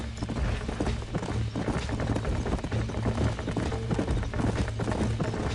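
Rapid, continuous clopping of horse hooves galloping in Red Dead Redemption, a steady dense rhythm of hoofbeats under a low rumble, with no talk.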